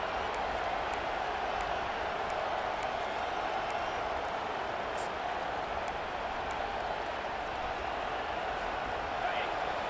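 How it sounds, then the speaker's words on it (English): A stadium crowd roars in EA Sports College Football 25, a steady, distant din running for the whole stretch beneath a commentator talking. "Listen to this crowd just shaking the girders of this place, trying to help their defense."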